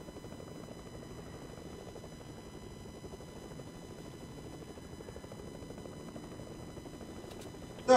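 Helicopter flying in the video game Fortnite, a steady low rotor drone holding at a moderate distance throughout, with a brief sharp sound at the very end.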